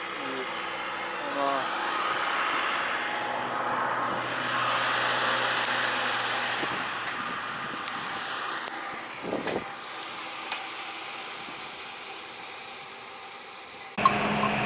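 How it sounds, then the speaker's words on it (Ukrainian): An MTZ-892 tractor engine rumbles at a distance and gradually fades as it moves away across a wheat field, with faint voices and outdoor noise around it. "вже наш перший трактор поїхав далі"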